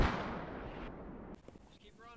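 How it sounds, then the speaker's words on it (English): A mortar round bursts loudly at the start in the Squad video game, then its rumble fades out over about two seconds while players talk. "More mortars."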